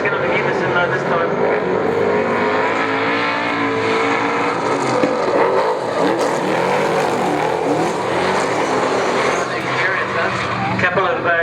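Super saloon race cars with big block Chevrolet engines roar continuously around a speedway, loud and sustained, with an announcer talking over the engine noise throughout.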